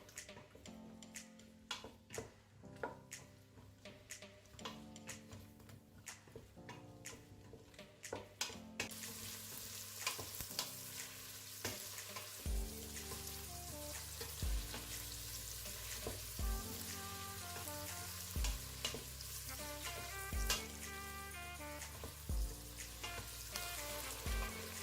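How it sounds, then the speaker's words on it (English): Mushrooms fry in hot red palm oil with a soft, continuous sizzle, broken by frequent small crackles and stirring ticks, fairly quiet throughout. "Heat up some red palm oil and fry the mushrooms for a bit."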